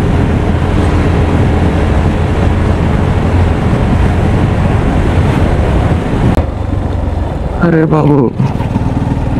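A motorbike roars steadily while being ridden over rough ground and launched into a jump, the engine loud and close under heavy wind buffeting, then a sudden drop as it lands, with a man's brief exclamation.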